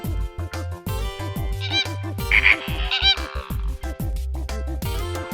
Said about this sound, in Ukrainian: Фламінго.